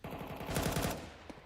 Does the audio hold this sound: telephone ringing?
no